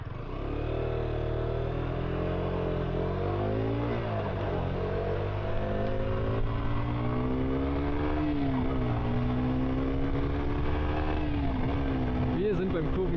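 Ducati Panigale V4S ridden on a winding road, its engine droning steadily throughout with rising and falling pitch as the rider works through the revs, close and continuous.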